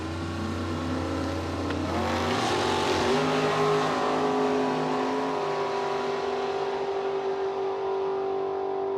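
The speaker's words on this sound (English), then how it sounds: "Rick Brown from Indian Head in the 2006 Chevrolet Corvette." A 2006 Chevrolet Corvette drag racing at a raceway, its engine roaring loudly and steadily, then climbing sharply in pitch as it accelerates hard down the strip, sustained throughout with no speech.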